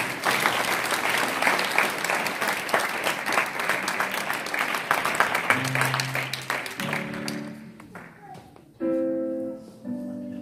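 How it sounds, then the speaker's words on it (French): Applause from a congregation acclaiming the king at a wedding blessing service in Paris, a dense steady clapping for about seven seconds that thins out and gives way to sustained musical tones. "Est-ce qu'on peut acclamer le roi?"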